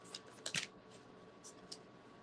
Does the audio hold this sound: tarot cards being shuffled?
yes